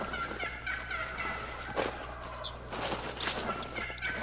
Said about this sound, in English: If you're gonna gobble that much times.